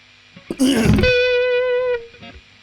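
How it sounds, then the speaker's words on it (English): Distorted electric guitar with the Joyo Atmosphere reverb pedal bypassed: a short pick scrape, then one sustained dry chord that holds for about a second and stops abruptly, close and fairly loud. "Just as an example, if I bypass the reverb"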